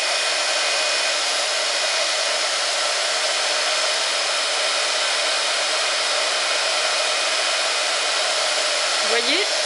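A heat gun blows steadily and loudly at close range for the whole stretch, melting embossing powder on a Stampin' Up! New Year card, a constant broadband hiss with no talk over it.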